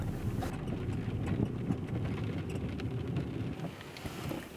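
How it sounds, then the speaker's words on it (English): Light rain patters steadily on a vehicle parked in a desert wash near Papoose Lake, a soft continuous hiss with faint drops and a low rumble of wind, no voices. "there's been some rain clouds that have moved in and we're getting a little bit of rain"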